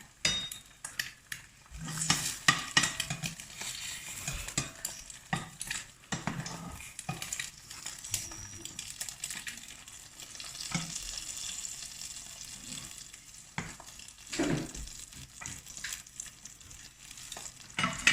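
Beef lok lak frying in a pan and being stirred with a small spatula, with steady sizzling broken by repeated scraping and clinking of the utensil against the pan, close and fairly loud, with no talking.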